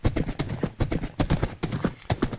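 Minecraft horse hooves clip-clop in a quick, steady rhythm, each step a crisp, close knock that repeats evenly throughout with no talking.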